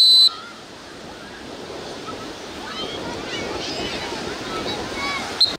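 Surf washing in steadily at Souiria beach in Morocco, a broad continuous roar of breaking waves with wind noise on the microphone, fairly close and even throughout.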